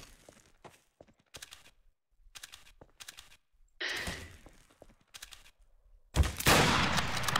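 Gunfire in the video game Trouble in Terrorist Town: short bursts of shots separated by silent gaps, then a louder sustained volley near the end, with no talking over it.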